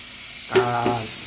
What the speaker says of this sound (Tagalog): Gigisa po tayo. Yung munggo.